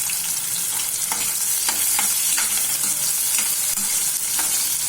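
Onions fry in hot oil already seasoned with cumin and mustard seeds, giving a loud, continuous close sizzle broken by regular scraping strokes of a spoon stirring the pan, with no voices.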